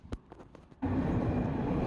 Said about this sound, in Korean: 옆에 트램이 오길래 한번 속도 경쟁을 해봤는데 트램을 따라 잡을 수는 없었다